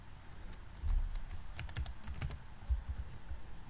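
Rapid typing on a computer keyboard while writing C# socket code, a quick run of close, crisp clicks with a few louder bursts, no voices.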